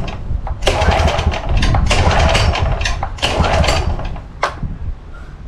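An XTM 22000W generator engine is started on choke, with a loud, close pull-start surge that catches and sputters roughly in uneven bursts for several seconds before fading.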